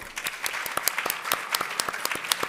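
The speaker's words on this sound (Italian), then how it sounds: "E vi prego di accogliere con un applauso la regista del film, Angelica Gallo." A crowd claps steadily for a film director at a press conference, a brisk patter of many hands at moderate distance with no voices over it.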